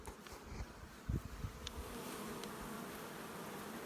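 Honeybees fanning and flying at a beehive entrance on a hot, dry day, a steady faint insect buzz throughout with a few louder close passes near the start.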